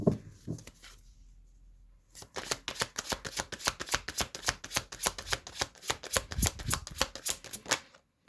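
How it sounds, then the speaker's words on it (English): A quick run of crisp, rhythmic riffle-shuffling of a tarot deck, close and clear, after a brief soft rustle; no talking. "I'm going to shuffle again."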